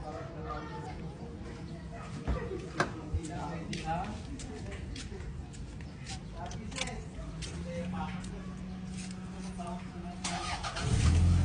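A car engine turns over and starts near the end, preceded by someone talking over a low background rumble.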